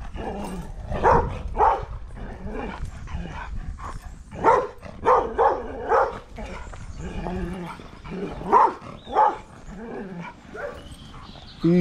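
Several dogs bark in repeated bursts during a community walk in Crosbies, Antigua, sharp barks in clusters spread across the clip over outdoor background noise, fairly near.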